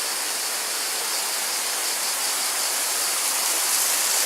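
Water flows in a constant loud rush at a trout farm in the mountains, heard up close and alone with no voices.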